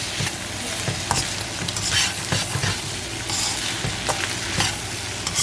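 Cabbage stir-frying in oil in a pan, a steady close sizzle with intermittent scraping and stirring throughout.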